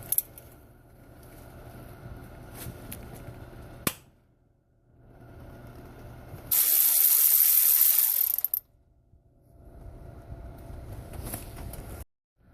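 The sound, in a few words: removing a nut from a stud on an engine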